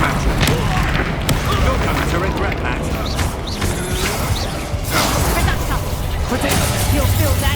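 Fire spell blasts from the Confringo curse in Hogwarts Legacy combat, loud repeated booming bursts and crackling impacts layered over dense battle noise and a character's voice.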